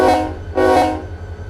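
A train in the Run 8 Train Simulator III game sounds two loud, sustained horn blasts over a low rumbling engine drone, the second blast starting after a short gap and fading into steady rolling noise.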